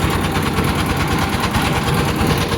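A river boat engine on the Brahmaputra drones loud and close, a dense steady rumble with a rapid mechanical chug that runs unbroken throughout.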